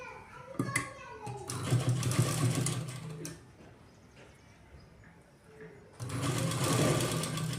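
A domestic sewing machine stitches a blouse button placket in two loud, steady bursts, the first about two seconds long and the second running to the end, separated by a quieter pause.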